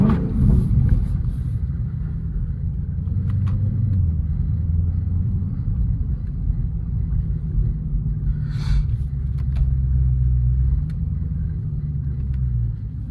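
A 1000 hp Dodge Hellcat pulls out of an icy gas station, its engine a deep, steady rumble that holds loud and close throughout, with a brief higher rasp partway through.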